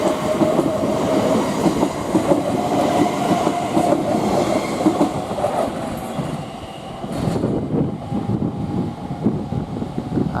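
A passenger train pulls away from West Ealing station on the Great Western Main Line towards Hanwell, its steady rolling rumble and wheel noise running loud and close throughout, with a brief dip before the clatter resumes.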